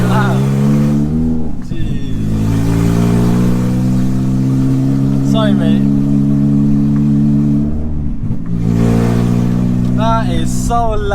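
A Toyota Celica's engine drones loudly and steadily throughout while driving, with brief dips around gear changes; someone talks over the engine noise.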